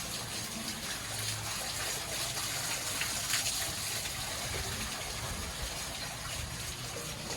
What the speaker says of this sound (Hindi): ये प्लांटेशंस और एक बहुत ही खूबसूरत वाटरफॉल